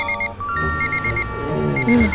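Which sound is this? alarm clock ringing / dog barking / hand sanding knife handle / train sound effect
alarm clock ringing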